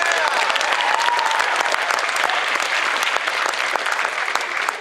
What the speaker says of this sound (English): Big round of applause for all the vendors and sponsors for today's event.